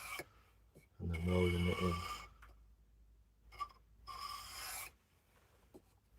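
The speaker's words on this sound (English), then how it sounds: "So I'm just rolling it on the 800 grit, getting the bevel angle right" A knife blade is rolled over an 800 grit sharpening stone, giving two sustained rasping strokes with brief pauses and someone speaking briefly between them.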